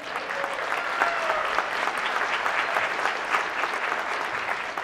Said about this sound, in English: How about a round of applause again for the actor and producer and director of the film?